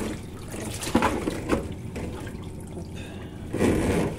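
Water drains from a Miele G230 dishwasher with a steady rushing gurgle and a few sloshing surges, close and moderately loud, while a voice says one brief word.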